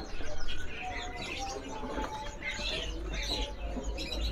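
A songbird calls in shrill, emotional bursts, with repeated high chirps and whistled notes over a noisy background, while a voice murmurs faintly underneath.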